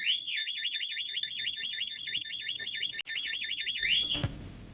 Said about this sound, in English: There's the car alarm.